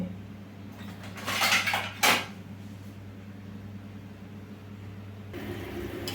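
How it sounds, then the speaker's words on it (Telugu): A metal lid set onto a cooking pot of vegetable and drumstick sambar, two clattering metallic clanks close together near the start, then a quiet background hum and a faint rustle at the end. "మూత పెట్టుకొని తెరలించుకుందాం."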